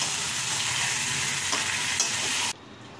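Chicken and rice are stirred and sautéed together in a single pot for tehari, giving a loud, steady frying hiss with soft stirring scrapes that stops abruptly near the end, with no talking.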